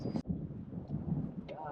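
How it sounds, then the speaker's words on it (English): Strong wind buffeting a fishing boat in Georgia backwaters, a steady low roaring rush against the microphone that barely lets up for the whole stretch. "The wind is blowing so hard, it makes everything so difficult."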